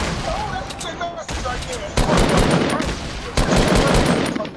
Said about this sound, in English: He's grenade launching.